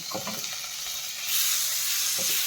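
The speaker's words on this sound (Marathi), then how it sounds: "आता कांदा तांबूस झालेला आहे. त्याच्यामध्ये टोमॅटो टाकायचे" Browned onion sizzles in a pan while tomatoes are added for a shahi matar paneer masala, and the hiss swells louder and steadier partway through, with a few faint clinks in the first second.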